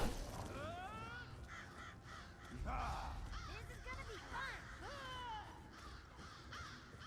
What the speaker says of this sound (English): There are a lot of birds here.